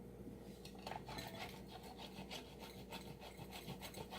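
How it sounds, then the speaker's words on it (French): Two bars of soap being grated, a steady dry rasping and rubbing that continues without pause, close and moderately quiet. "On va commencer par râper nos deux savons."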